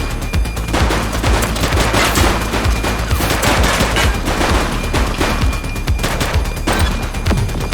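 Sustained gunfire in a police shootout in the video game The Precinct: dense, continuous volleys of shots and bursts that stay loud and close for the whole stretch, with no pauses between them.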